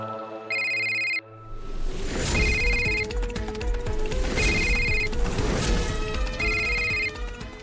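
A telephone rings in repeated electronic bursts, one clean ring followed by three more over a busy, noisy household background.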